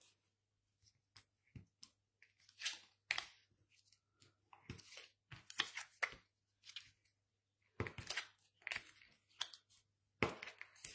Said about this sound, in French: Alors, on marque nos plis sur tous nos morceaux.